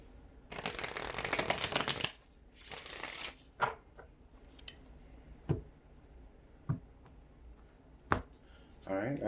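A deck of tarot cards is riffled twice in quick fluttering bursts, then several sharp taps as the cards are knocked square, quiet and close.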